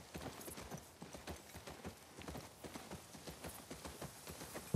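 The horse Shimmer in The Last of Us Part II clip-clops at a steady walking rhythm, each hoof strike close and distinct, with no talk over it.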